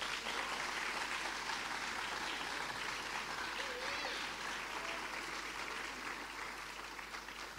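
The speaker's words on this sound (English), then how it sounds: "give a round of applause to parents and partners that supported you during this journey" Sustained applause from a large audience at an agricultural college summer graduation ceremony, honouring parents and partners, a steady dense wash of clapping heard at a moderate distance and gradually thinning toward the end.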